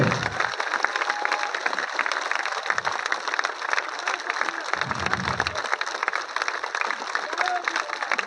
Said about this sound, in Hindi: ताली, जोर की ताली बजाइए।